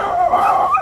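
A dog gives a short, whining yip, a brief high-pitched vocal sound lasting under a second, close and fairly loud.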